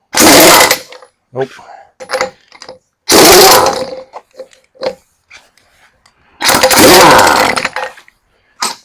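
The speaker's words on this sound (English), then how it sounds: "These are some shorties. I don't know if my socket will get them off." Bursts of a loud power tool with a socket working on truck wheel lug nuts on a Kenworth K100 cabover, three long high-revving runs separated by short clicks and a brief spoken word.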